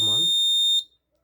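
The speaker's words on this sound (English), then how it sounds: "alarm on." Buzzer alarm of an RFID and Raspberry Pi exam paper leakage prevention system sounds a steady, piercing electronic tone for under a second, then cuts off abruptly; a voice is briefly heard at the start.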